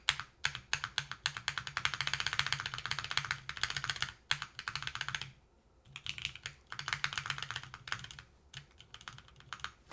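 Rapid typing on a custom-built mechanical keyboard, with dense bursts of clacky keystrokes broken by short pauses and a brief silence midway, close and crisp with no talking.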